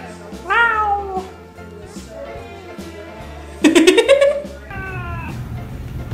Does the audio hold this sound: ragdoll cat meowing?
yes